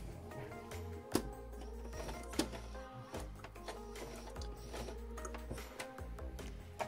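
A sewing machine with a twin needle stitches lingerie fabric very slowly: faint, close mechanical ticking and whirring with sharper clicks at a few moments, and no voices.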